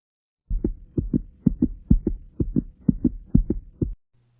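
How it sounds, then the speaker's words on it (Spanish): A steady, deep heartbeat thumps in paired beats, about eight double pulses in a row, close and clear against silence. "Escuchó los alocados latidos de su corazón"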